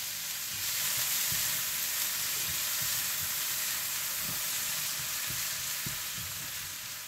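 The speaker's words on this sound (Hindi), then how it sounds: "जैसे ही मक्खन गर्म हो जाए तो आप इसमें प्याज डाल दें" Onions frying in butter with salt in a pan, a dense, continuous sizzle heard close and steady, with faint light knocks beneath.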